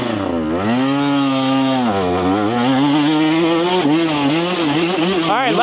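A 2025 KTM 150 XC-W two-stroke dirt bike engine heard up close: a loud, buzzing engine note that rises and falls in quick blips, ending in sharp revs.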